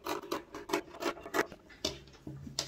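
Scissors cutting fabric for a sewn halter top, a series of close, quiet snipping and rasping strokes in an uneven rhythm with short pauses.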